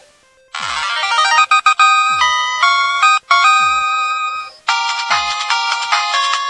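A mobile phone ringtone plays loud and close, a bright synthesized melody of sustained electronic tones in changing phrases with brief gaps, no talk over it.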